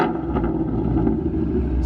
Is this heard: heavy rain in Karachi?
no